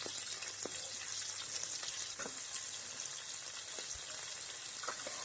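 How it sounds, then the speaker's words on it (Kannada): Onions hit hot oil in a pan alongside green chillies and fry with a steady, dense sizzle and crackle, broken by a few clinks of stirring, while cooking tomato rice bath. "ಈಗ ಈರುಳ್ಳಿ ಆ್ಯಡ್ ಮಾಡ್ತಾಯಿದ್ದೀನಿ ನಾನು."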